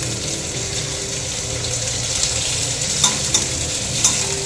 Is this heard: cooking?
yes